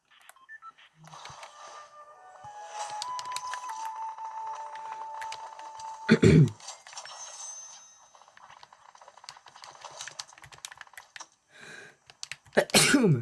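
A single sharp sneeze bursts out midway, followed later by another brief burst, amid quiet beeps and small clicks.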